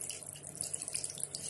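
Water runs steadily from a household tap into a sink after a blockage was cleared, a continuous hissing splash that holds at an even level throughout, close and moderately loud with no talking.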